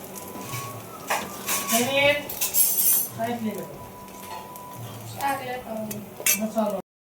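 A spoon scraping and clinking against a pan while lifting out fried puffed-rice balls soaked in buttermilk, several short metallic clinks and scrapes with someone talking between them.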